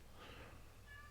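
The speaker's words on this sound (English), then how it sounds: "You hear my cat?" A domestic cat brought back to a shop on a cold day gives a single faint meow in the middle of the clip, heard over a steady low background hum.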